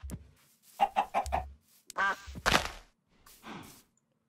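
Chicken clucks from the video game Minecraft, several short, throaty bursts in quick succession, then a couple of separate calls with pauses between, fairly close and without talk.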